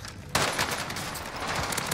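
Gunfire in Call of Duty Warzone on Rebirth Island, a sudden loud onset followed by sustained rapid shots and crackling echoes throughout, with no talk.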